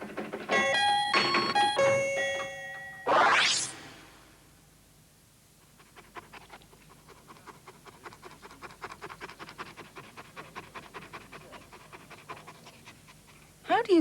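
A dog pants in quick, rhythmic breaths for several seconds, close and moderately loud, after a doorbell chimes its ding-dong tones and a short rising sweep.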